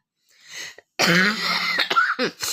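A soft breath, then a harsh, close cough with a throaty rasp, followed by a shorter second cough.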